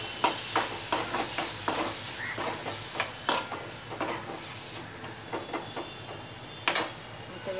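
Vegetables with drumstick and dried shrimp get stirred in a pan, a spoon scraping and knocking in quick irregular strokes, fairly faint, with one sharper clink near the end.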